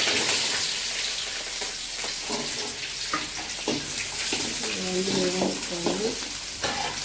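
Mustard seeds, cinnamon, cloves and spices sizzle and crackle in hot oil, a steady close frying hiss with scattered pops and stirring scrapes throughout.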